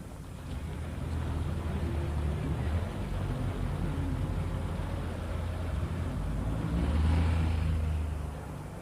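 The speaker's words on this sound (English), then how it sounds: "here is vehicle 281, a Dennis Dominator with a Gardner engine and East Lancs body" Dennis Dominator double-decker bus with a Gardner engine and East Lancs body, dating from 1986, running in a city centre with a steady low diesel drone, swelling louder near the end amid wind and street noise.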